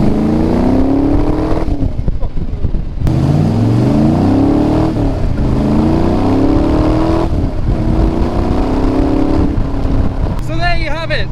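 A 2005 Dax Tojeiro Cobra replica car driving and revving hard, its loud engine rising and falling through gear changes with short lifts off the throttle, close and continuous, with someone talking near the end.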